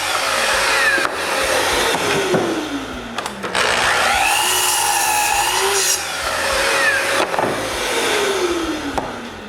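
Power saw cutting a wooden board into short six-inch pieces in a garage workshop, a loud sustained whine rising and falling through the cut, with the blade spinning up and down between passes.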